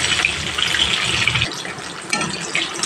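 A double-yolk chicken egg fries in hot oil in a pan, giving a loud, bright, continuous sizzle that briefly dips midway before surging again.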